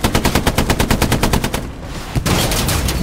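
A Stuart tank's machine gun firing in Hell Let Loose, a loud, close, rapid steady stream of shots that pauses briefly and then resumes, with no talking.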